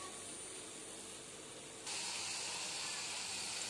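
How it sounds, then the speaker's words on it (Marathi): Onion pakoras, kande bhaje, deep frying in hot oil, a steady broadband sizzle that grows louder and brighter partway through as more batter goes in, continuous and close with no talk. "मस्तच असे सगळे कांदा भजे मी तळून घेणार आहे."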